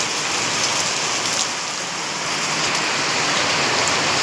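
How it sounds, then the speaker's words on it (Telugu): Heavy rain pours down in a dense, continuous, even hiss of drops, steady and enveloping with no voices. "వాన అయితే ఫుల్ కురుస్తుందండి."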